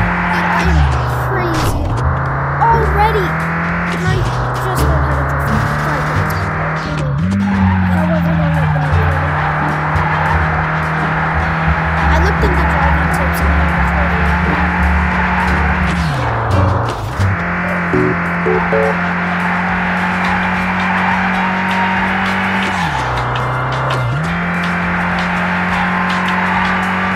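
A car drifts in the VR racing game V-Speedway, its engine droning steadily while tires squeal and skid in repeated long slides, loud and close, the engine pitch dipping and rising between each drift.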